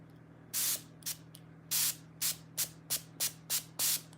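A cleaned spray bottle trigger being pulled repeatedly, giving nine short hissing bursts in an uneven rhythm, close and fairly loud over a low steady hum.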